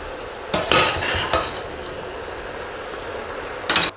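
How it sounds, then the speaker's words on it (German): Vegetables for ratatouille, coated in oil, are stirred in a pot, giving a few clattering scrapes and knocks of a utensil against the pot early on, then a quiet stretch and another brief clatter near the end. "Gut rühren."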